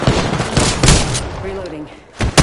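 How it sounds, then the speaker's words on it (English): Gunfire in the battle royale game Apex: loud, dense rapid shots filling the first second, a quieter stretch with a faint voice, then more sharp shots at the end, close and harsh. "Shots fired."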